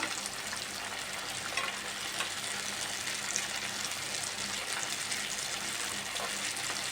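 Plantain veg fish fry sizzling in a pan of hot oil, a dense continuous crackling hiss at steady loudness with faint spatters, no talking.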